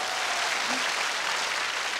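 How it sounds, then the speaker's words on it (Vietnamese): Applause from the audience at a live concert show, a steady broad wash of clapping filling the whole stretch at moderate level with no break. "Hãy vỗ tay vì điều đó ạ."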